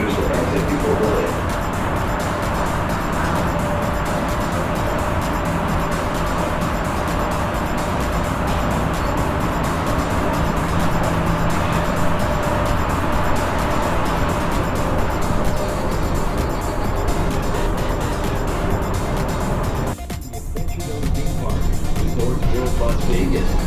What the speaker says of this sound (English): Thanks for riding the Las Vegas Monorail